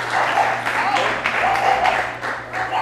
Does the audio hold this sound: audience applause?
yes